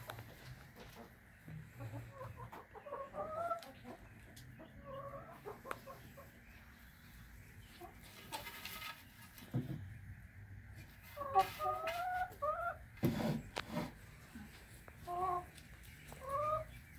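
Hens cluck in short repeated bursts at close range, scattered through the clip with brief knocks and rustles in between.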